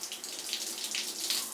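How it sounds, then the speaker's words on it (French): A shower pours water onto a fully clothed person, giving a steady bright splashing hiss that flickers slightly in strength over a short stretch, with no speech. "prendre une douche tout habillé"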